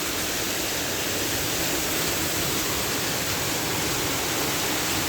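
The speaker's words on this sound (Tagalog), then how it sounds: "Bigla lang buhos ng ulan na hindi mo maintindihan." Sudden heavy rain pours down in a dense, steady hiss that fills the whole stretch without letting up, loud and close with no voices.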